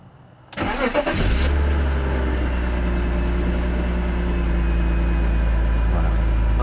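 A car engine cranks briefly, catches and settles into a steady, loud idle that continues alone to the end.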